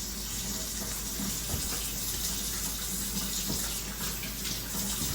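Steady rush of running tap water as green onions and ginger are washed under the faucet, a constant close splashing flow with no talk.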